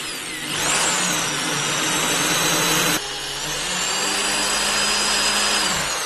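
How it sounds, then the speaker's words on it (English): An electric drill in normal mode bores holes in the tube of a Skywatcher Classic 250P telescope, giving a loud, steady, close whine that briefly dips midway and then resumes, with no talk. "so there we go, we've got our holes drilled."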